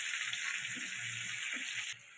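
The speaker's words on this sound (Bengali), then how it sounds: "টমেটোটা দেখো খুব ভালোভাবে নেড়ে চেড়ে মজিয়ে নিয়েছি" Salted tomatoes frying in a pan for a restaurant-style matar paneer, with a steady close sizzle and a few soft stirring sounds until the sizzle drops near the end.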